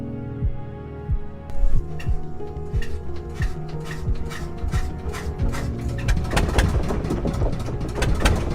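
A steady boat engine drones at low pitch with a faint repetitive knocking while motoring in Indonesia, rising and growing busier toward the end, with no voices.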